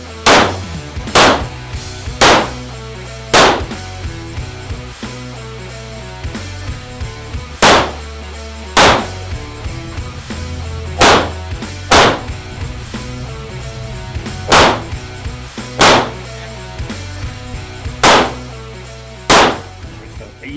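Glock pistol fired repeatedly during move-and-shoot practice at a shooting range, about a dozen sharp, loud reports spaced irregularly a second or two apart over a steady background.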